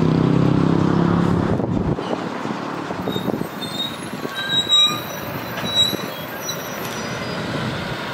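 A Line 11 train passes near the Estudantes terminal in Mogi das Cruzes, its rumble fading as its wheels set up a loud sustained squeal of shifting high tones.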